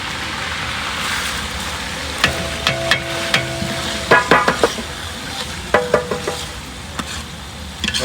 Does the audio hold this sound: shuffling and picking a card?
no